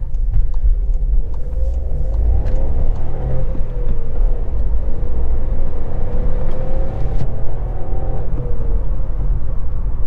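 Skoda Fabia Monte Carlo driving on a country road in the Val d'Oise, heard from inside the cabin as a steady low engine and road rumble with a slowly shifting engine tone and occasional light rattles.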